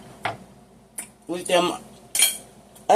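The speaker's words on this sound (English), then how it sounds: "let me go ahead and just cut a piece here" A knife and fork work through a tender piece of beef liver smothered in onions and gravy on a plate, giving a few short clinks and scrapes of cutlery against the dish, close and fairly clear, with brief pauses between strokes.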